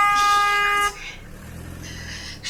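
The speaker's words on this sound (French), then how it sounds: "Bruit de klaxon d'environ 7 secondes qui masque le reste de ses paroles" A vehicle horn blares in a long, loud, steady tone for about a second, then a quieter second honk follows, sustained and close.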